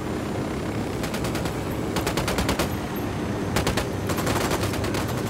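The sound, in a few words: gunfire from a video game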